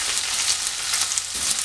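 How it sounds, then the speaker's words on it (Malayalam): Onions sautéing in a pan with green chilies and curry leaves, a steady close broadband sizzle with light crackles throughout and no voices. "അതിൽ നല്ലതുപോലെ ഒന്ന് വഴറ്റി എടുക്കണം"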